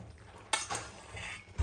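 Metal and penne pasta clinking in a small frying pan as it is stirred into carbonara sauce, a few scraping knocks over a low background hum.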